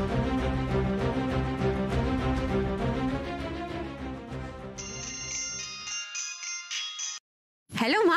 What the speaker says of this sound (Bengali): আমি ওকে একটা ফোন করি, দাঁড়াও।